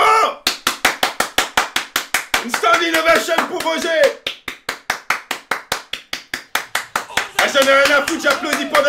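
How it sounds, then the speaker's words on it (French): Steady, sharp hand clapping in a fast regular rhythm throughout, with people talking over it in bursts. "J'applaudis pendant une demi-heure"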